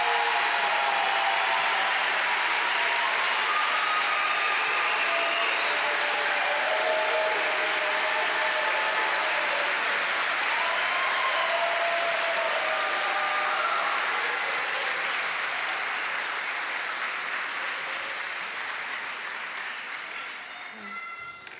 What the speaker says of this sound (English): A round of applause for the Spring 2025 nursing graduates from the Dr. F.M. Canseco School of Nursing.